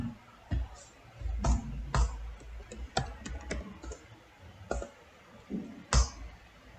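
Close computer keyboard typing, uneven clusters of clicky keystrokes and a few heavier taps spread across several seconds, with no voice over the clatter.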